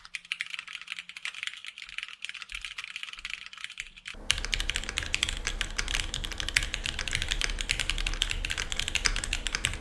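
Keys clack in a steady stream of typing on a mechanical keyboard, faint at first, then louder and closer with denser, rattling keystrokes.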